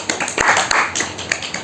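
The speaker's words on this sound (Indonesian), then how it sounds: "Tepuk tangan." A brief burst of hand clapping from a small group in a classroom, sharp claps scattered quickly over a second and a half, close and fairly loud.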